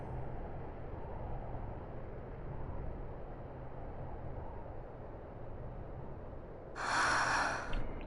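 Ashe, a character in Final Fantasy 12, gives a short breathy gasp near the end, rising sharply out of a steady low game ambience.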